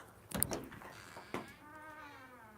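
A pet cat meows to be let out, a couple of near, soft mews over a quiet room, with a faint thunk of a door in between.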